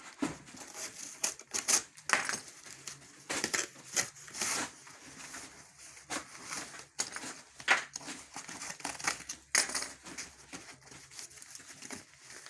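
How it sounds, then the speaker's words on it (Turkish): Excess cardboard flaps are folded and bent by hand while fragile glass is packed, giving dry crinkling and crackling in irregular bursts with short scraping handling noises, fairly close and alone. "Yani kartonların fazlalıklarını böyle büküyoruz."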